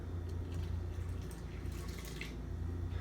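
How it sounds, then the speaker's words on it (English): One cup of water is poured into an Instant Pot while vegan BBQ ribs are being made. The splashing is soft and brief, set against a steady low kitchen hum, and there is no talking. "Next, we're going to add our 1 cup of water."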